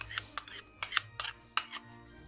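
Crab salad with mandarin juice is stirred in a bowl, giving a quiet, irregular series of sharp clinks and scrapes of a utensil against the dish, close and faint.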